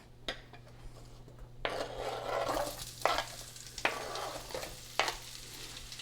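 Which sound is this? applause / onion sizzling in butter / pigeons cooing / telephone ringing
onion sizzling in butter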